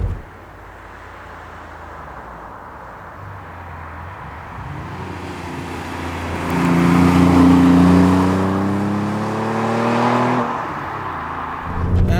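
An Alfa Romeo 147 GTA with the Busso engine drives on a back road: a steady engine drone rises into a louder, climbing rev as it accelerates, then eases back while still running.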